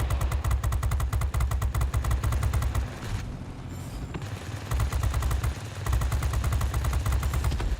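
Aircraft machine guns firing in World of Warplanes, loud rapid bursts of rattling fire in long rhythmic streams, with a short pause midway before the shooting resumes.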